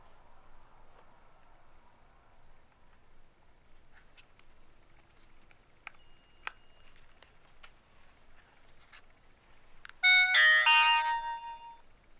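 Mini Q9 swivel-lens dash cam powering up on a workbench through a socket adapter, quiet faint clicks and handling noise followed by a short bright electronic startup chime near the end.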